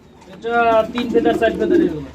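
Pigeon chicks, including Bombai pigeon babies, coo softly nearby in low, throaty bursts while a person talks over them.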